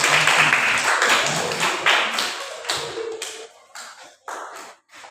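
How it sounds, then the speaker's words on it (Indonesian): Indoor group applause at a coding training session, dense clapping at first that thins into scattered claps and taps, fairly close and moderately loud. "Silakan tepuk tangan untuk."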